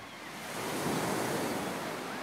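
Small one-foot ocean surf washes in at Bondi Beach, a broad hissing roll that swells and then holds as a steady wash, with some wind noise and no voices.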